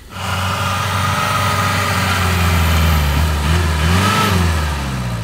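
A Tarpan Honker off-road vehicle fitted with a Mercedes engine runs close by, its loud engine note swelling and revving with a couple of pitch rises, steady and alone without talk.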